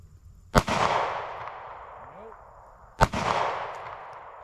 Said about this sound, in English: What a horrible shot.